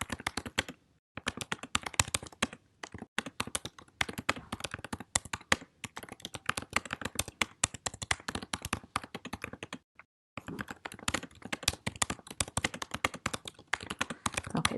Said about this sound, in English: So I might just type in some quick directions here.